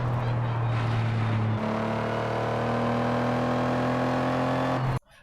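A racing car engine from the video game Forza Motorsport holds a steady, loud drone, shifting pitch once as it revs, then cuts off abruptly.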